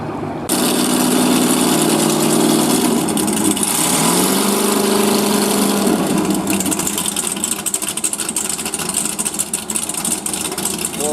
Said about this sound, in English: Well, that is one mighty powerful engine.